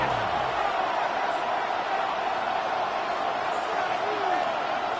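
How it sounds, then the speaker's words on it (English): A stadium crowd at a Green Bay Packers game in Madden 26 roars in a steady, dense wash, loud and sustained, with a faint commentator voice beneath. "This crowd turning up the decibel level."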